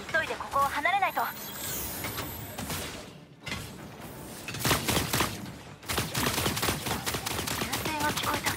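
Gunfire from a Senko Skylark solo match in a shooting video game, a rapid burst of loud, close shots early on followed by further dense crackling volleys after a short lull.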